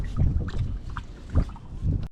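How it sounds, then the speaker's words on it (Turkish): Gusty wind buffeting the microphone in low, rumbling waves, with a boat's hum and water noise in the background, on a fishing boat at sea. "Bak yine başladı rüzgar görüyor musun?"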